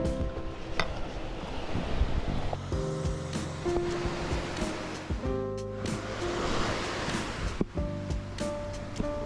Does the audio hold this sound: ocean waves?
yes